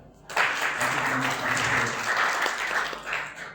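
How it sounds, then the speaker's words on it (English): An audience at a democracy event in Nairobi, Kenya bursts into thick, continuous applause that starts abruptly and holds steady for a few seconds before tapering slightly. "can you clap for them?"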